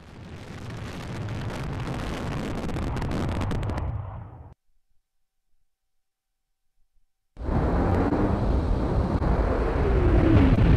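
Model rockets launching from a school STEM shock-absorbing landing test, a loud roaring burst of motor thrust for about four seconds, abrupt silence, then another sustained loud roaring rush.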